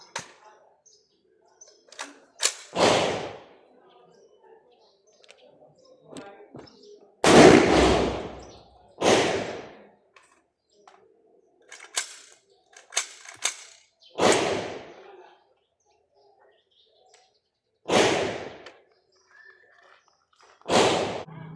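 Several sharp, loud firecracker bangs go off one at a time with gaps in between, echoing briefly, set against a quiet outdoor background.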